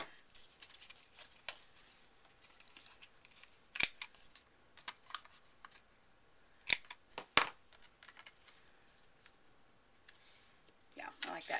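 Scissors snipping paper for a handmade thank-you card, a scattering of sharp, quiet clicks and snips spaced irregularly across a hushed room.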